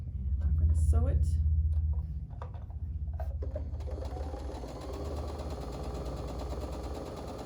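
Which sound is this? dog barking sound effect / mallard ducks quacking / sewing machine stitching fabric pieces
sewing machine stitching fabric pieces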